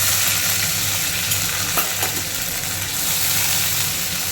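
Panch phoron and shiuli leaves sizzle loudly and steadily in hot oil in a wok, a dense continuous crackle from start to finish with a few faint stirring clicks.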